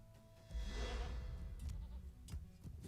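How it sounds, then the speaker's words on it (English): A ruddy goat in a video game gives one loud wavering bleat close by, followed by softer rustling and small thuds. "Here's a ruddy goat here."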